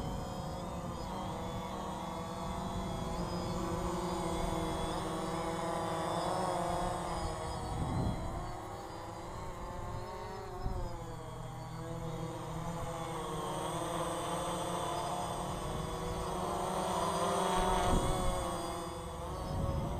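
A remote-controlled aircraft fitted with new propellers flies overhead, its motor droning continuously and shifting in pitch as it climbs, dives and stops, moderately distant, with no voices.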